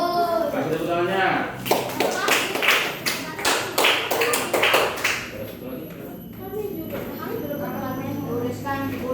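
Classmates clap together in a classroom, a burst of brisk, uneven hand claps lasting a few seconds, with children's voices chattering before and after.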